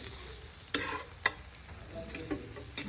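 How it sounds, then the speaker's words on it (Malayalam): A special omelette frying in a pan, with a steady close sizzle and a few sharp clicks and scrapes of stirring or turning across three seconds, no voices. "ഓംലേറ്റ്, സ്പെഷ്യൽ ഓംലേറ്റ് പൊരിഞ്ഞു വരികയാണ്."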